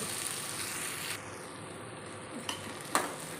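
An egg going into sizzling ginisang ampalaya (sautéed bitter gourd) in a pan, a soft continuous sizzle with a few stirring clicks and utensil taps near the end, quiet and close, no talking.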